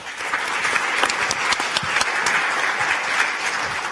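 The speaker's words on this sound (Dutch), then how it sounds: "Graag uw applaus, Melanie." A studio audience applauds a guest author called onto a Dutch talk show, steady, full clapping with distinct individual claps standing out, continuous and fairly close.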